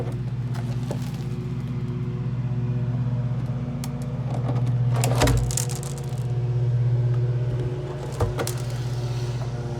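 A lawn mower engine runs steadily in the background on a farm, a constant droning hum that swells slightly at times, with a few faint clunks.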